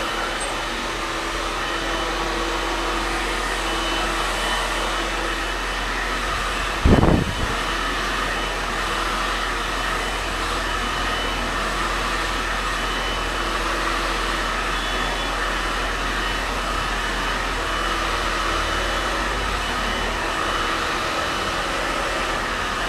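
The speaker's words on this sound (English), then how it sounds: "And the blow dry." A hair dryer blows steadily while drying a freshly cut mod bob, a constant close whooshing roar that runs unbroken throughout, with one brief bump partway through.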